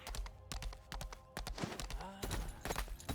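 Horse hooves clip-clopping in the Lost Ark video game, a rapid rhythmic run of close hoofbeats continuing throughout, with a person talking over them.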